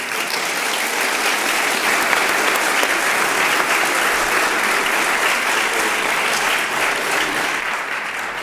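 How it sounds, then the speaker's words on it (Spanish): Sustained, loud applause from a conference audience for speaker Miguel, dense clapping that holds steady for several seconds before easing slightly at the end. "Merecidísimo el aplauso tanto él como el de Esther"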